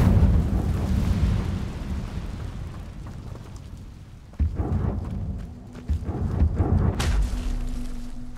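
In Hogwarts Legacy, an Incendio fire spell is cast in a loud, dense rumbling roar that swells, dips, then surges again with crackling bursts, and no voices are heard.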